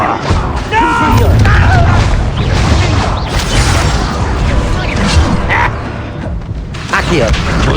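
A Confringo fire-blast spell explodes in the Hogwarts Legacy video game during a fight with a goblin, loud booms and crashes amid clattering effects, with voices calling out over the action.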